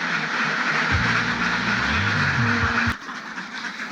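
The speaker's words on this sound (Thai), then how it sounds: "กินอาหารแล้วก็จะได้ปล่อยน้องเป็ดออกไป" Farm ducks quack after a feeding, a short run of nasal, overlapping quacks rising over a steady background hiss in the middle of the stretch, then breaking off abruptly.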